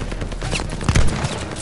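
Rapid, dense machine-gun fire rattles continuously in a Call of Duty Vanguard battle at a tower, loud and close, with a heavier burst near the middle.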